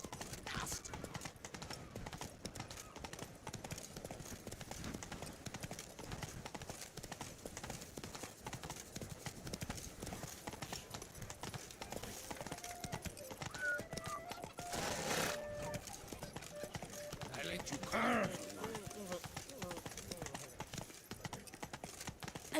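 Hooves clip-clop steadily as a horse gallops in The Witcher 3, a faint, continuous rhythmic patter with a brief whinny partway through and voices talking over it.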